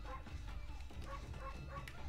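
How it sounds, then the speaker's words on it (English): A wolf in the Okami video game gives a quick series of yipping barks, evenly spaced and fairly faint, over a low game background hum. "The barking scared her."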